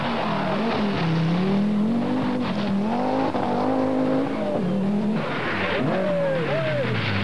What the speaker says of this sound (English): whilst Marc Douay drives the Audi Quattro for the first time, giving some spectators a close look at the car.